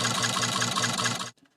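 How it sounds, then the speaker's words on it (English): An engine layer built for a spin attack in the video game Death's Door churns with a rapid, regular throbbing pulse, loud and dense, then cuts off sharply. "An engine noise."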